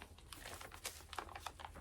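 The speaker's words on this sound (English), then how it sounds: "She's just in a plastic bag." A plastic bag holding a cross-stitch project crinkles softly in quick, irregular rustles, faint and close, with no voices.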